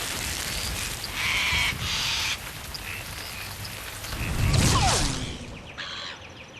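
A bird squawks and caws loudly a few times close by, harsh calls rising over a steady patter of rain on a surface outdoors.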